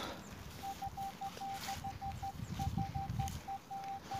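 A metal detector beeps over a buried coin during a detecting outing, giving a steady run of short, evenly spaced electronic tones that repeat with a brief gap, over faint outdoor rustling and handling noise.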